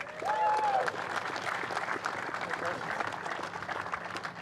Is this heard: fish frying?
no